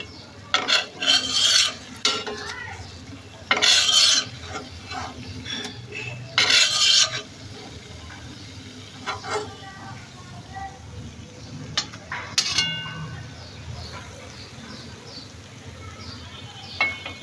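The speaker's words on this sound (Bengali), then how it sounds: "এই জন্য অল্প তাপে ভাজতে হবে, ধৈর্য নিয়ে।" Khaja pastries frying slowly in oil over low heat, giving a soft steady sizzle with intermittent louder scraping and stirring bursts, close by and without talk.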